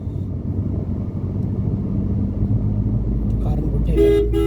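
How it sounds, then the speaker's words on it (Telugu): A car horn sounds near the end over steady road and engine noise inside a car during driving lessons, sounding before overtaking, with talk from the cabin throughout. "హారన్ ఓవర్టేక్ చేసే ముందు హారన్ కొట్టుకోవాలి"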